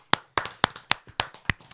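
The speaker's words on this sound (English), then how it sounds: "Round of applause for Steph" A small group gives a round of applause for Steph, with about six sharp, separate claps spaced roughly evenly and heard up close. No other sound stands out.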